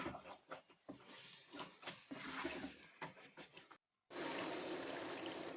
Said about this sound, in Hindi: अब इसमें 1 गिलास शामिल करके पानी का